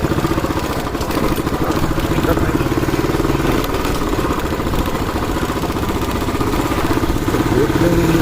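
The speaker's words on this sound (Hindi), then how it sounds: "तो गाड़ी का इंजन लगा।" A motorcycle engine runs steadily on a rural track, with a continuous rapid mechanical chug and clatter, close and fairly loud, mixed with wind rumble.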